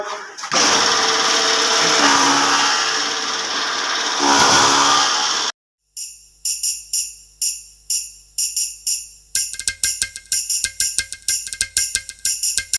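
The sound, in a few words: Dream Machinery combined straw and grass cutting machine running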